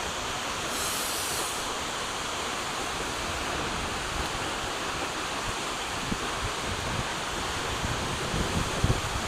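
Seljalandsfoss waterfall in Iceland roars in a snowy setting, a loud, steady, broadband rush of falling water that fills the scene without pause and carries no voices.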